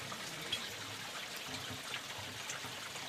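Water trickling from a pipe at a mountain spring in a village in Chamoli, Uttarakhand: a faint, steady thin splashing and dribbling that runs on evenly without any voices.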